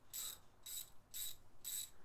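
Koken Z-EAL 3/8-inch drive ratchet handle clicking through its fine-tooth gears in four short, evenly spaced bursts of rapid, crisp ticks, close and alone.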